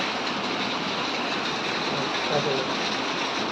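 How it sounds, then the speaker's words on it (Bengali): Heavy rain pours down steadily, a dense continuous wash of noise that stays even throughout with no pauses. "এই যে ঝমঝম করে বৃষ্টি হচ্ছে।"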